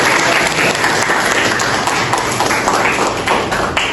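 Students applaud in a madrasa classroom during a Qur'an and Hadith lesson, loud close clapping from a small group with a few sharp taps and thuds mixed in.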